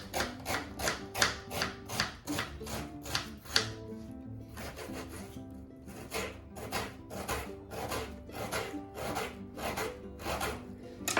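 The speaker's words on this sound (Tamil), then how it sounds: "3 மீடியம் சைஸ் வெங்காயம் எடுத்துருக்கிறேன். தோல் சீவிட்டு இது சின்னதாக கட் பண்ணிக்கோங்க" A knife finely chops medium-sized onions on a cutting board, with rapid rhythmic taps in quick bursts, a brief pause between runs, and close, crisp strikes.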